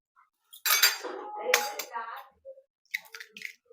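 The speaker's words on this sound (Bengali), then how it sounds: "খুব ভালো করে মিশিয়ে নিলাম" A utensil beats two eggs into a winter vegetable batter in a bowl, with a run of close, clinking scrapes and knocks against the bowl that come in short bursts separated by brief pauses.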